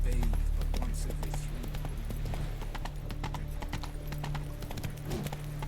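Horse hooves clip-clop steadily at a trot in the video game The Witcher 3: Wild Hunt. The close, even hoofbeats run throughout, with faint game ambience beneath.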